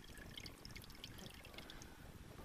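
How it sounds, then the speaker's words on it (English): Steady trickling and splashing water drains continuously from a boat engine during winterizing, close by, with no voices. "Let all the water drain out"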